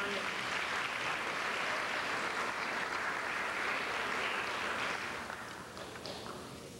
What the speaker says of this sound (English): Please give them a wonderful audience and a nice round of applause.